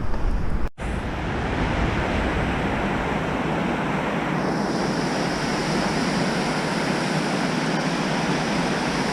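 River water rushes through a park in Skopje, a steady, loud wash of surf-like noise with a sharp click near the start.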